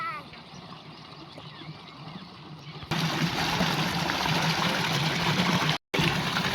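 Water flows in a village setting, a steady rushing hiss that starts suddenly and loudly after a quieter stretch, then cuts out briefly near the end before resuming.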